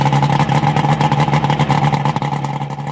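An outboard boat engine running out of the water drones loudly and continuously, with a strong low hum and buzzing mechanical tone, running without pause.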